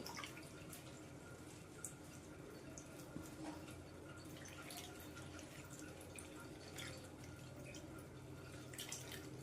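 Water dripping and trickling from pressed bitter gourd as it is squeezed by hand, a soft, steady patter of drips and splashes, close and fairly quiet throughout, with no talking.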